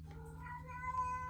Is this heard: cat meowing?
yes